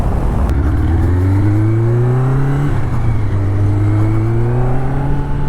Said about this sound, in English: the inline 4 sounds beautiful